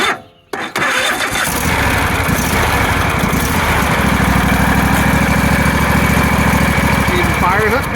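A Craftsman engine, started with a 1000-amp jump pack, gives a short crank, fires and runs loud and close with a steady chugging idle. A voice speaks briefly near the start.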